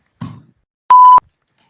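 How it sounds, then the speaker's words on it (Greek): A single clean censor beep, a steady electronic tone lasting about a third of a second, loud and isolated, coming just after a short burst of noise. "θα βάλω μπιπ"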